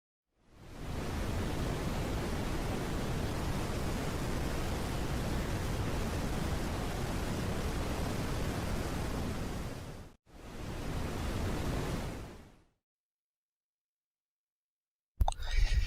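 Broadband rushing water of the Salto del Agua waterfall at Placilla de Peñuelas, a steady close roar for about ten seconds, then a short burst, silence, and a brief return at the end.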